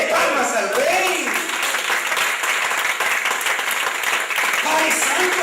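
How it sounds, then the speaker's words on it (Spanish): A church congregation claps along in worship, sustained loud applause with voices and tonal sounds running underneath throughout. "Dale palmas al Rey."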